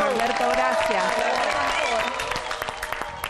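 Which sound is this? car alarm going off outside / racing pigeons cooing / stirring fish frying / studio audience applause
studio audience applause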